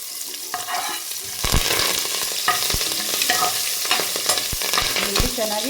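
Chopped onions frying and being stirred in a pan for basale leaf sambar, a loud continuous sizzle broken by repeated scraping stirs of the spoon, close up with no talking.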